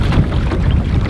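Gusty wind buffets the microphone on Lake Tiorati, New York, during a kayak fishing outing, a loud, low, continuous rumble with no voices over it.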